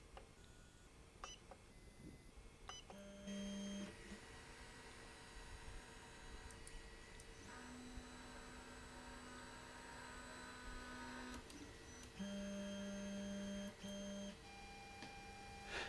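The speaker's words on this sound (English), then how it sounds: "Then home the printer." A JGMaker Magic 3D printer's stepper motors whine in sustained tones that shift pitch as the axes home, with soft mechanical clicks and a faint hiss underneath.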